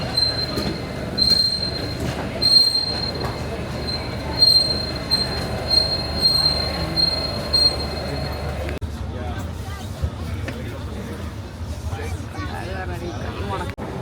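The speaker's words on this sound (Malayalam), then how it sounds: "അങ്ങനെ നമ്മുടെ മെട്രോ എത്തിയിരിക്കുകയാണ്." A Paris metro train pulls into the station, its wheels squealing loudly in long high tones over rumbling rail noise, with station crowd murmur around it, and the screech cutting off partway through.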